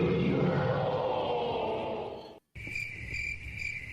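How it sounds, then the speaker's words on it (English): Crickets chirp in a steady, continuous high trill that starts after a brief silence, following a loud stretch of broad noise. "The crickets have come out for me, I guess."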